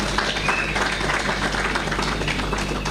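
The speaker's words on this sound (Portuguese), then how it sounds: "Peço uma salva de palmas também para ela." A crowd at a Mozambican ANAMOLA party political rally applauds a speaker, a steady wash of clapping that holds at an even level throughout, with faint voices mixed in.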